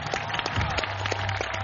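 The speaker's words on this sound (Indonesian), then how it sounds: "Beri tepuk tangan dulu dong." A studio audience on an Indonesian evening TV talk show breaks into applause. The clapping is brisk and moderately loud, with a low hum running beneath it.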